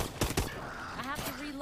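Two quick shotgun blasts in the Call of Duty Exo Zombies video game, sharp and close, followed by faint game sounds and a rising tone.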